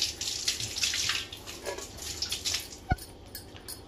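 Chopped onions and green chillies being rinsed in water: a soft, steady swishing and trickling throughout, with one sharp knock of a bowl partway through and no talking.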